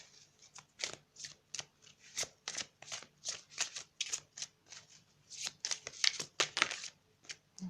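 Tarot cards being shuffled by hand in quick, crisp riffles, a rapid run of papery flicks close to the microphone that grows busier near the end.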